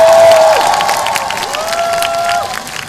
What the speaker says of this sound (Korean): 이 자리에 자리하신 시민 여러분 큰 박수 보내주시기 바랍니다